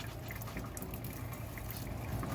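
Water washing soil through a fine sieve in a sedimentation test, a soft continuous trickling and splashing, fairly quiet and close, with no voices.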